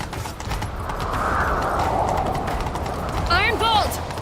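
Horse hooves clip-clopping in The Witcher 3 video game, a steady galloping rhythm under game character dialogue, with a brief whinny near the end.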